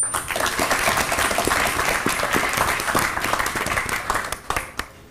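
Audience applause for a rapper fills the room, a dense, steady wash of clapping that holds for about five seconds before thinning out.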